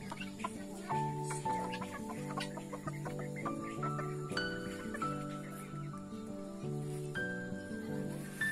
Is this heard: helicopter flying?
no